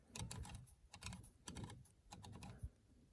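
A rifle scope turret on a Tikka T1x .22LR being dialed up, a run of small sharp clicks in quick bursts, close and quiet with no talking.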